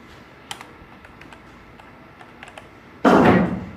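Sparse, soft computer-keyboard key taps while coding HTML sit over a quiet background, followed by a sudden loud, dense burst of clattering near the end.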